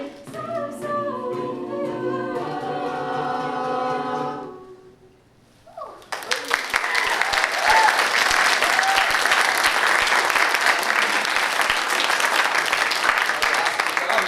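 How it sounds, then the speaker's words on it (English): A song with singing fades out at a university graduate research competition, then a loud burst of audience applause and cheering carries on without a break. "let's give them another round of applause"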